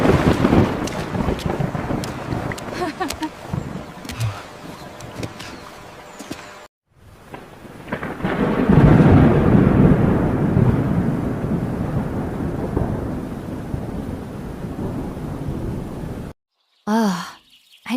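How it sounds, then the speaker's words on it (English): Steady rain falling in a forest by a waterfall, a broad continuous wash that swells loud midway, with brief gaps and a short burst near the end; no clear thunder stands out. "I didn't expect to get drenched, but the rain feels so refreshing"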